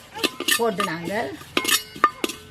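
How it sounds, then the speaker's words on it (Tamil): Ajwain seeds frying in a pan for a traditional millet breakfast, heard as faint crackles under scraping and clinking of a utensil against the pan, with a voice speaking briefly. "ஓமம் இப்போ பொறிஞ்சி சத்தம் கேட்குது."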